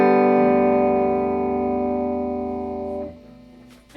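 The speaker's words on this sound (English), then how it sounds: "Let's turn on the Blues Driver effect pedal." An Epiphone Casino electric guitar played through a Blues Driver overdrive pedal with a touch of reverb, giving a single sustained, warm, gritty chord that rings steadily and then decays and cuts off near the end, with no talking.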